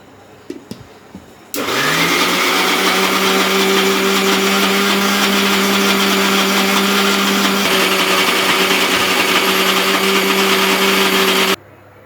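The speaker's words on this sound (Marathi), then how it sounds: "हे बघा, हे असं वाटून तयार आहे आपलं सगळ्या डाळी" A mixer grinder grinding soaked mixed lentils starts up abruptly and runs at a steady, loud whirring whine for about ten seconds, then cuts off.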